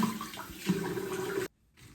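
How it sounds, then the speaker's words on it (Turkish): Water runs steadily from a tap at a bathroom sink during face washing, a close, continuous splashing flow that cuts off abruptly, leaving near silence. "Hadi yüzümüzü yıkayalım."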